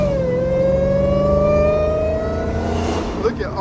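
A Dodge Hellcat's engine revs hard, a loud, steady rising whine with strong harmonics that swells and then tapers off, heard close up from inside the car, with a voice briefly near the end.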